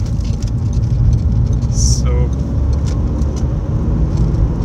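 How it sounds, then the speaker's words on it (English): Mercedes car driving past close by, a brief swell of passing noise over the steady road rumble of a moving car. "amazing wee Mercedes"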